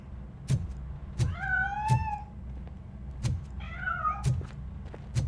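A cat meows in a video game, with a couple of rising, drawn-out cries over sharp repeated thumps and a low background hum.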